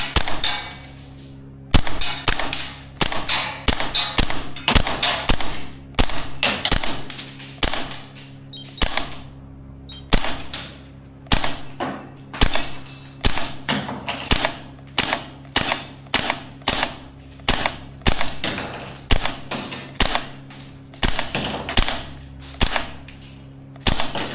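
Maruyama SPC-9 gas blowback airsoft rifle fired at targets in a steady string of sharp cracking shots, some in quick pairs, each with a metallic bolt clack, loud and close with brief gaps between bursts.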